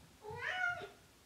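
A domestic cat gives a single clear meow lasting about half a second, fairly close and alone, with faint room tone around it.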